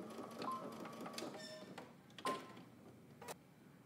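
A sewing machine back stitches at the end of a seam on swim trunks, giving a close mechanical whir with a few sharp clicks and pauses as the stitching direction reverses.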